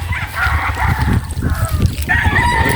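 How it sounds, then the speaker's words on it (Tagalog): A rooster crows loudly close by, its strained call stretching over several seconds amid some clucking from nearby birds. "Delikado to mga manok dito."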